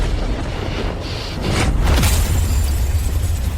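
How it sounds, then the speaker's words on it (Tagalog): A car explodes in a drama scene, a loud, dense, roaring blast that swells and stays heavy and noisy throughout, with no speech. "Sumabog ang sasakyan."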